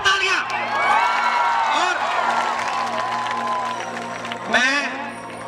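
Audience at a live comedy show in Jabalpur applauding and cheering, a steady wash of clapping and whoops with excited shouts over amplified hall ambience, brief voices cutting through near the start and end.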